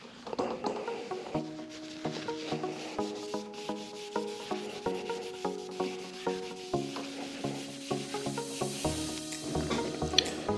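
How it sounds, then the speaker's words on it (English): A rag dampened with alcohol wipes a Harley-Davidson surface clean before a trim ring goes on, making repeated rhythmic rubbing strokes, close and fairly quiet, with no talk. "let's go ahead and clean the surface with some alcohol and a clean rag"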